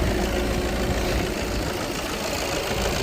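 A used Audi A4 35 TDI quattro diesel engine idles with a steady low rumble and faint mechanical ticking, continuous and close, with no voices.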